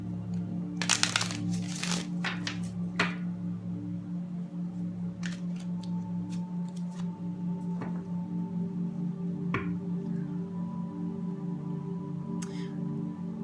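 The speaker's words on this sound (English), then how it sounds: "One last shuffle." A short papery riffling burst near the start, followed by a few sparse ticks and taps over a steady low hum.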